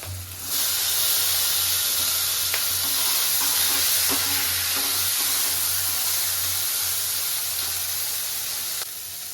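Chopped garlic, green chillies and tomatoes hit a hot pan and set off a loud, continuous hissing sizzle that starts abruptly and holds steady for several seconds before cutting off.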